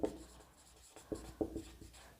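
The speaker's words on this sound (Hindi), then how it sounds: "यहां हम लिखेंगे" Pen or marker writing by hand during a chemistry lesson on coordination compounds, a few short scratchy strokes in quick succession, faint and close, with no voices.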